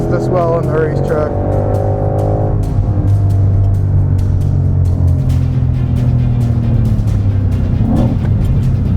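2020 Ford Mustang Shelby GT500 with 760 horsepower driven hard on a racetrack, loud engine drone rising and easing through revs, heard from inside with a steady roar throughout.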